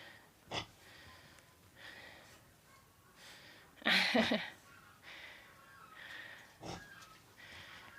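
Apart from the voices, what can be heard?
pigs snorting and grunting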